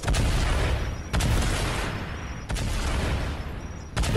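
Two loud, booming grenade blasts in the video game Fortnite, each a sharp broadband burst followed by a rumbling tail, with a third softer hit near the end.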